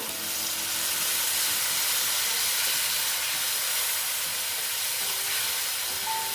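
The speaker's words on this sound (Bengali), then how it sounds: "তারপরে দিচ্ছি আদা বাটা একটু জল দিয়ে দিলাম" Ginger paste with a splash of water hits a hot pan while cooking a Bengali banana-flower mocha ghonto, giving a loud, even, steamy hiss and sizzle that holds steady at close range, with no voices.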